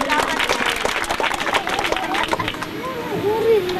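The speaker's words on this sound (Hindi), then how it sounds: "आप प्राप्त करें जोरदार तालियां के लिए।" An audience claps at a prize distribution ceremony, a burst of loud applause early on that fades as a voice speaks over the crowd.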